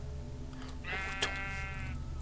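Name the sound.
sheep bleating in the video game Minecraft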